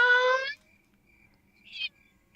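A person imitates a cat with a vocal meow, a clear tonal half-second call. After a short gap comes a second, shorter and higher meow, both close and distinct against near silence.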